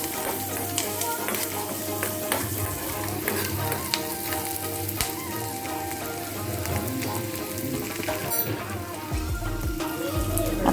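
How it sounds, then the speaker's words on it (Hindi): Chopped onions with green chili and kasuri methi sizzle steadily in a pan on the stove, a loud, close, continuous frying hiss with faint crackles and the odd stir. "इसे मिक्स करके अनियन को हल्का सा सॉटे कर लेंगे"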